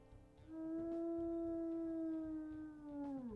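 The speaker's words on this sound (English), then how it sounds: "we'll listen to her howls" Female wolf howling in the video game WolfQuest, a single long sustained howl that rises in and holds steady for about three seconds before sliding down at the end, alone and clear.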